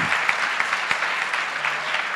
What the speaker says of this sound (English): But a big round of applause for them.